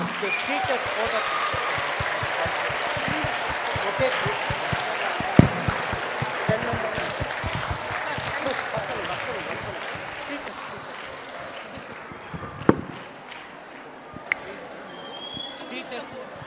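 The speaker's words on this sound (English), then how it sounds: "let's give a huge round of applause to ma'am" Students at a school quiz event give a round of applause, a steady crowded clapping that runs beneath a voice speaking over it, with a few sharp louder claps standing out.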